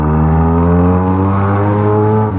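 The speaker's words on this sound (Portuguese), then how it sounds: "dá uma aceleradinha pra vocês verem a força dessa moto" Yamaha XJ6 motorcycle with a straight-pipe exhaust accelerating hard, a loud, close, sustained engine roar with steady harmonic tone through the whole short burst.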